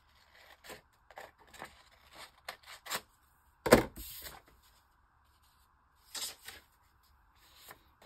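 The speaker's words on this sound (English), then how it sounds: "So I'm going to cut off the excess paper." Excess paper being cut away while assembling a handmade flip-flop journal, heard as scattered close snips and rustles of paper, one louder crinkling burst in the middle and short pauses between.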